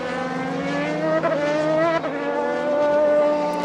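Vintage race cars, including a 1979 Tyrrell and a 1997 Benetton, roar around the Indianapolis circuit, a loud sustained engine drone with shifting pitch as cars pass close by, with no talk over it.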